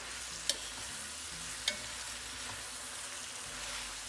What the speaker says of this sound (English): Now stir them up, coat them in this beautiful oil.